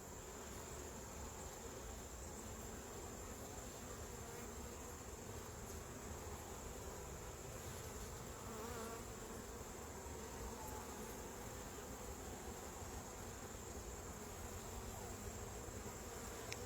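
Honeybees buzz around a thin hive opened for inspection, a steady, faint, continuous hum with no pauses and no talk.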